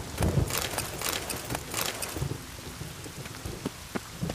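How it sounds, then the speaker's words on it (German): Steady rain in The Witcher 3: Wild Hunt patters on a surface, with a few brighter splashes and a faint low rumble underneath. "Es regnet halt immer noch."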